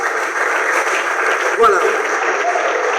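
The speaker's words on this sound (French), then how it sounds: "Si on peut applaudir quand même." Audience applause at a school sports award ceremony for a third-place match, a steady broad patter of many hands filling the whole moment with a slight swell midway, a voice faintly over it.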